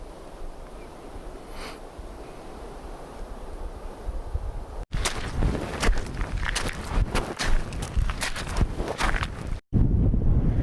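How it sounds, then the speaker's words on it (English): Strong wind buffeting the microphone on a high mountain ridge on a hike near Lago Sorapis, a steady rushing roar with gusts that swell loud and rumbling in the second half, with a brief dropout near the end. "It's very windy."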